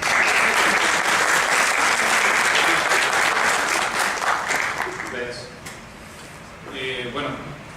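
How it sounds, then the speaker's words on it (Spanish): The audience at a student philosophy colloquium applauds a presenter. Dense, loud clapping from a room full of people lasts about five seconds, then thins and fades as a voice begins speaking. "Un aplauso para él, por favor."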